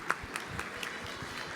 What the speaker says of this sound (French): Je pense qu'on peut l'applaudir pour le culot.